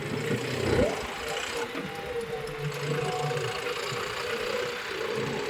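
A John Deere 5405 4x4 CRD tractor engine running steadily at a low, even rumble throughout, with an earlier brief knock. Nearby voices are faintly present.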